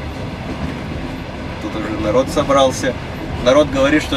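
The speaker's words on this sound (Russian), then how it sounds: "звук вот этих стук колес натуральный, не приглушенный никакой шумоизоляции" On the Adler–Perm train No. 354 nearing Volgograd, wheels rumble and clatter on the rails in a steady background drone while someone talks over it.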